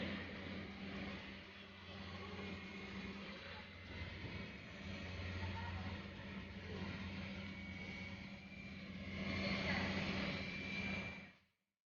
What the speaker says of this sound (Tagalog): Mga kotse muna mauna dyan.